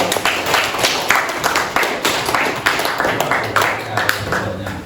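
A classroom of students claps in a religious studies lesson, a steady patter of hand claps running through the whole stretch with voices and chatter mixed in underneath.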